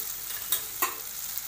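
Spoon stirring paneer bhurji with red chutney and garam masala in an oiled pan, a soft steady sizzle with two brief scraping strokes standing out.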